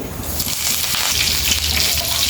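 Mustard and spice tempering hits hot oil in a small pan for coconut chutney, giving a steady, loud hissing sizzle that runs throughout, close to the pan.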